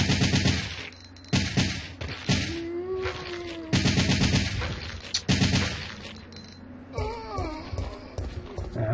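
Gunfire in Resident Evil 3 comes in repeated loud rapid bursts and single shots, broken by short pauses, with creature noises and a voice heard in between.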